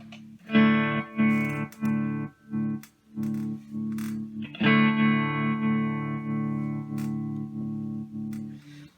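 An electric guitar plays chords and single notes through a vintage tremolo pedal, its volume wavering rhythmically as each chord rings out, with no talking.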